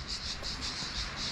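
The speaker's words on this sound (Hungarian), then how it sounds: "a kabóca kórus megkezdte működését egy kb. Negyed órája" Cicadas sing in a chorus on a hot day, a continuous buzzing drone that pulses in a steady rhythm, moderately loud with no voices.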